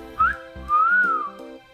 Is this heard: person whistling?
yes